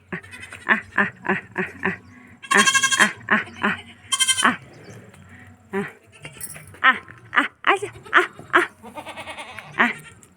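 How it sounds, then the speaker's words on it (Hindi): Goats and their kids bleat repeatedly at a rural family home in India, loud and close, in quick rhythmic bursts with a few harsher, noisier cries mixed in and a voice speaking between calls. "ये 2 बकरी है, ये उनके 2 बच्चे हैं।"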